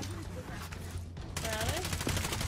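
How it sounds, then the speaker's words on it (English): Rapid automatic gunfire from an enemy team rattles in a battle royale shooter, dense bursts of shots that intensify in the second half, mixed with game sounds and players talking. "I'm being shot from another team"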